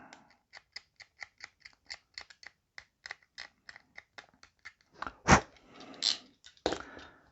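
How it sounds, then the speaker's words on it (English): A hobby knife cuts and scrapes a plastic Warhammer 40,000 miniature, a quick series of sharp, close clicks and scratches, followed by a few louder, longer scraping strokes. "take your knife, cut down behind that triangle, and then cut it off at the base. Scrape the area flat."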